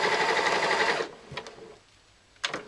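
A sewing machine stitching the side seams of a laptop bag, a loud rapid mechanical run for about a second that stops abruptly, followed by a couple of brief clicks and knocks.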